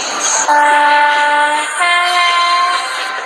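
Loud, close train horn blasts in a train simulator game, two sustained harmonic tones in succession with a brief break between them, heard alone.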